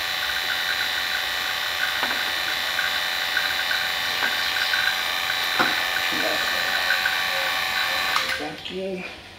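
A steady mechanical whine of a vacuum pump on a Ford Crown Victoria's AC system drones on continuously with faint ticks, then winds down and stops near the end.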